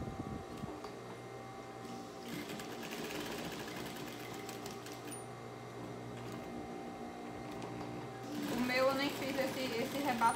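Sewing machine stitching the edging around a handmade fabric rag doll, a steady mechanical whir running under music, with a busier burst of stitching near the end.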